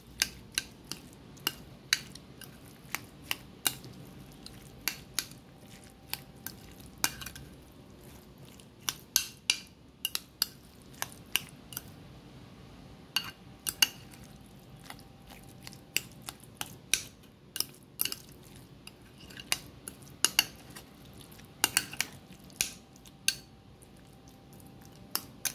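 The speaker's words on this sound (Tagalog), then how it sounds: "Mix lang natin mga sangkay." Egg sandwich spread ingredients being mixed with utensils in a bowl, a steady run of sharp clinks and scrapes with soft squishy stirring underneath, no talking.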